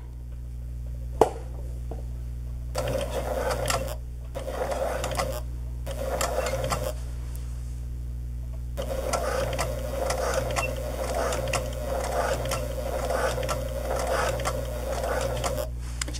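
A sewing machine stitching along a hoodie hood, running in several bursts of rapid mechanical chatter separated by short pauses, then one long continuous run, over a constant low hum.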